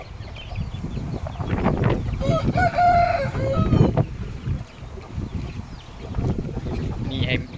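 Taiwanese fighting chickens cluck and a rooster crows amid a busy farmyard, with people talking nearby over the birds.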